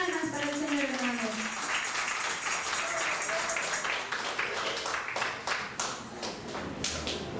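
Church congregation clapping together in a steady rhythmic stream of claps, dense and sustained, with a sung or spoken voice faintly underneath at the start.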